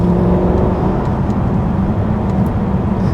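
A supercharged 5-litre V8 in a Jaguar XKR drones steadily while driving at low revs, a loud, even engine hum with road noise and no speech.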